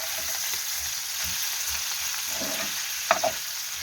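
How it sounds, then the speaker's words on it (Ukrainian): Meat frying in a pan: a steady, close sizzle with a brief scrape of stirring near the end, no voices. "І я ось зажарую м'ясо"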